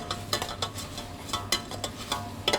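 Rice toasting in a small pot, stirred with a utensil that scrapes and taps the metal in an irregular rhythm over a soft sizzle, close and steady.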